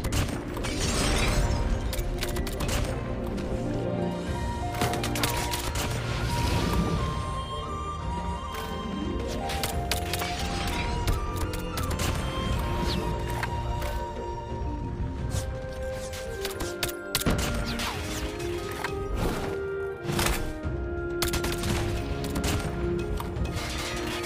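Video game gunfire from a Type 19 rifle fitted as an SKS-style sniper, with sharp shots and cracking impacts coming in quick bursts over loud, continuous music for the whole stretch.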